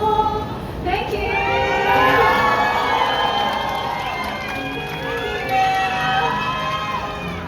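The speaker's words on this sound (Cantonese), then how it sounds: "再一次俾多啲掌聲" A dense crowd cheers and applauds after a singer finishes a song at an outdoor mall mini-concert at Tsuen Wan Lik Sang Plaza, with shrill whoops and shouting voices rising over a steady roar throughout.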